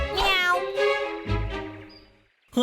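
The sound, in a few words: cartoon cat meowing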